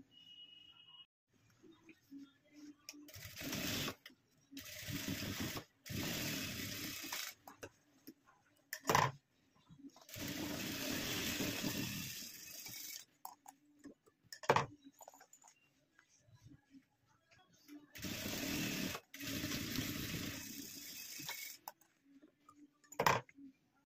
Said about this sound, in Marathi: तर जरा दोन्हीकडून आपण टिपा मारून घेऊया.